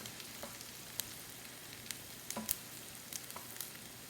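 Celery and other vegetables for a stuffed pork loin sauté in a pan, producing a soft continuous sizzle with a few light stirring clicks, faint and close, with no voices.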